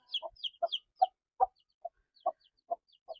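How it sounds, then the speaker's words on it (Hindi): Chickens and small chicks clucking nearby, a run of short bright peeps followed by spaced single clucks at a steady, moderate level with no talking. "ये मुर्गी के छोटे छोटे से चूज़े मेरे पास निकले हुए हैं।"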